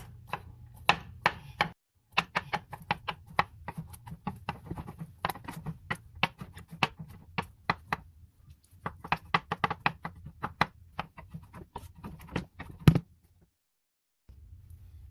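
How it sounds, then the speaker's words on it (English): Rapid knife chopping of garlic on a cutting board, sharp close knocks in quick bursts with a brief pause midway, fairly quiet and with no talking. "we're just going to chop up some garlic"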